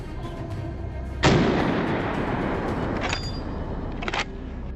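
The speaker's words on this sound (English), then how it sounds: "With swift and decisive action, John lines up the shot. Perfect! The bullet strikes true." A single loud gunshot is fired at a wild boar during a hog hunt, a sharp close blast followed by a long rumbling decay, with a couple of fainter clicks afterward.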